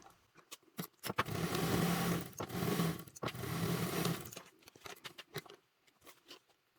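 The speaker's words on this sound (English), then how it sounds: "we're sewing the bases together with a 3/8 seam allowance" Domestic sewing machine stitching the fabric bases of a bottle bag together, with a rapid mechanical whirring run in two or three sustained bursts separated by short pauses and small clicks and taps around them.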